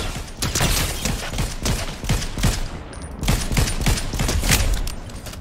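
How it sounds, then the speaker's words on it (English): Rapid gunfire fills a Fortnite squads match, dense bursts of shots cracking close and loud in quick succession throughout, with no talk over it. "Oh, I'm getting shot."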